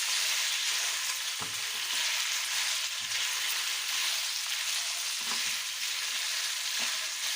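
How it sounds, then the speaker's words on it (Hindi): Mutton for shinwari karahi fries in hot oil, giving a loud, continuous dense sizzle with a few faint scraping stirs, and no voices. "मटन हमारा बहुत अच्छे से फ्राई हो चुका है।"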